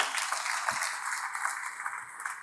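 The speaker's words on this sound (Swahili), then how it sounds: "Tujipigie makofi wana Burundi na Tanzania." Burundian and Tanzanian crowd clapping at an outdoor ceremony launching a railway link between the two countries, a steady dense wash of applause filling the short span with no distinct voices.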